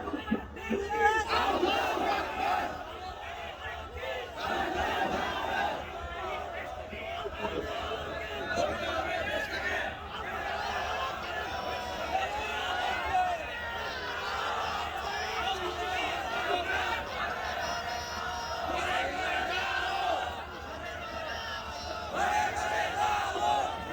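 A large crowd at a Bangladeshi religious gathering roars the takbir in unison, a loud sustained collective shout filling the space for the whole stretch.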